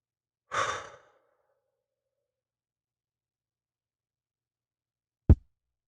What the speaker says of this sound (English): just take like 3 obvious mindful breaths, and you will feel dramatically different in 3 breaths